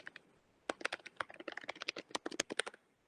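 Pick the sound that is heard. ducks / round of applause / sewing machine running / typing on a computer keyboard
typing on a computer keyboard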